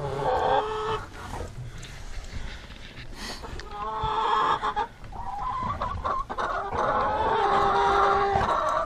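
Backyard chickens cluck and squawk in bursts at close range, with some brief voices mixed in among the flock's calls.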